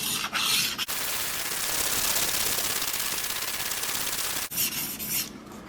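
Blade being sharpened on a 1200 grit plate, a steady rasping rub of steel on abrasive with a few brief pauses, close and fairly loud.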